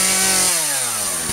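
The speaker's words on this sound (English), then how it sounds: "Starting up the Husqvarna chainsaw." A Husqvarna chainsaw, being readied to cut firewood alongside a log splitter, roars loudly at close range, its engine pitch dropping as it settles from a high rev.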